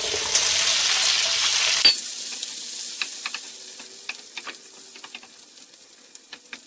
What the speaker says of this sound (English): We're going to cook with the tomatoes until they get a little bit wilted